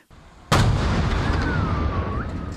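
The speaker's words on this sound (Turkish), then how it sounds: "Büyük bir gürültüyle meydana gelen patlama" An air conditioner explodes in an Istanbul apartment: a sudden loud blast bursts out after a quiet moment, followed by a long, noisy rumbling wash with a faint high whine over it.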